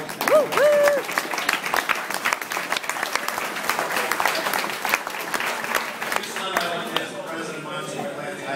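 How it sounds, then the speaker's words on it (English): An audience applauds a man at an evening leadership award ceremony, a dense round of clapping filling the room with some voices and a brief whistle-like tone at the start. "round of applause for Lord Joseph"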